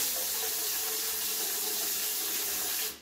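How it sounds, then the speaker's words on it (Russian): Water runs steadily from a hygienic shower mixer's hand sprayer, a close, constant hiss that holds evenly before cutting off at the very end. "Поэтому немножко прогоняем воду"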